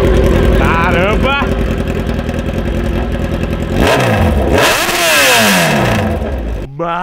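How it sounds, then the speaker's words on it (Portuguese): A Kawasaki Z1000 motorcycle engine idling, then revving loudly in two sharp sweeping bursts that rise and fall, close and powerful, with people talking and exclaiming over it. "essa Z1000 aqui tá barulhenta"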